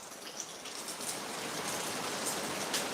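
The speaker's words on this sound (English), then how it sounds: "I'm sorry that it's all rain." Steady rain falls outdoors on a gloomy day, a dense even hiss of drops spread across the whole scene, moderately loud and continuous with no voices.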